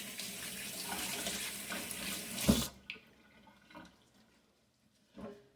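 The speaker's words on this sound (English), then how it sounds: "rinse my hands" Hands are rinsed under a running kitchen tap, a steady close rush of water that cuts off after a couple of seconds, followed by a few faint drips and small splashes in the quiet sink.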